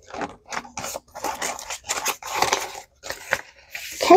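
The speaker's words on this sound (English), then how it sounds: "I guess I should put the money in the envelope" Paper money being slipped into a paper savings envelope, close and fairly loud: a run of dry rustling, rubbing and scraping bursts with short pauses between them, with no talking.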